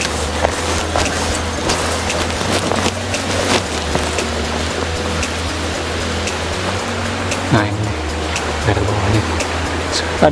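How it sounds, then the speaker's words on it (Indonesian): A river flows beneath the Gandasoli railway bridge in West Bandung, giving a continuous loud rushing wash of water with scattered faint clicks and knocks, steady throughout with no speech. "Ada sungai juga di bawah."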